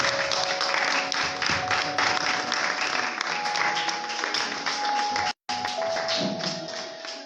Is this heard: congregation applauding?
yes